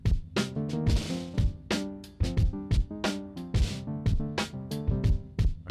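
Ableton Analog synth bass with the filter and envelope pulled down, playing a funky, rhythmic line of short plucked notes with sharp attacks and quick decays, steady groove, alone and fairly quiet.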